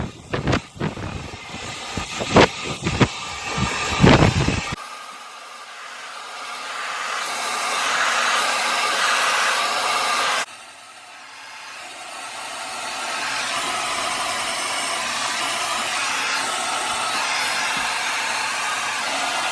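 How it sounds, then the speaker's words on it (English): A hair dryer blows long hair dry in a continuous, loud airy hiss that shifts in strength as it moves, then drops to a softer setting partway through. A few short handling knocks come before it starts. "Blow dry time."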